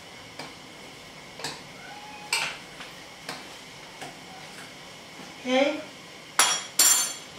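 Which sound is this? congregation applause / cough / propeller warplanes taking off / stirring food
stirring food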